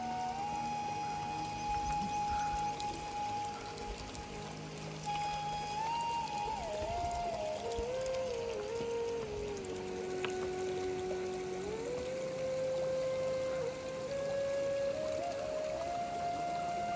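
A bottle fills with icy water from a mountain stream on the trek from Fairy Meadows toward Bayal Camp, making a gurgling rush with a clear whistling tone that dips and then climbs as the bottle fills.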